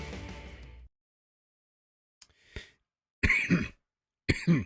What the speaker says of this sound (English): Start off with a cough.